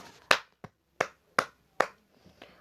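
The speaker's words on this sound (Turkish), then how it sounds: "Alkışlıyorum Ela'yı." Five sharp hand claps, close and crisp, spaced unevenly over about two seconds, followed by a few faint taps, with no voices.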